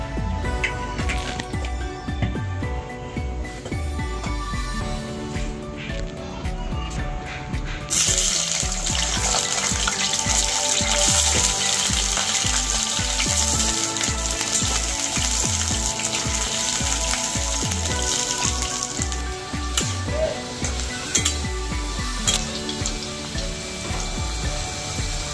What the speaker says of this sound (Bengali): কড়াই গরম হয়ে গেছে, সবজি একে একে একটু ভেজে নেব।